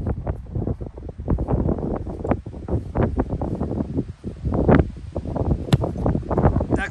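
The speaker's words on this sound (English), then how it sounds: "The wind's blowing left." Gusting wind buffets the microphone on an open football field during field goal kicking practice, a loud rumbling roar that rises and falls in uneven pulses with no voices heard.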